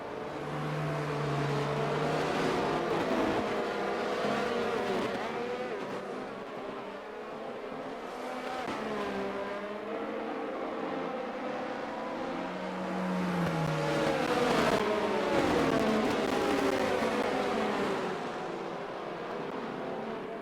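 A Formula 1 race car in a video game, heard onboard at the Portugal round under a safety car period, hums steadily at moderate engine revs with gentle rises and falls. It sits fairly quiet under a constant background wash.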